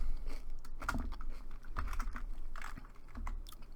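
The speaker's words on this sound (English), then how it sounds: "Let me type it in." Scattered, irregular keystrokes on a computer keyboard, close and fairly soft, tapping out a short entry with small pauses and no speech.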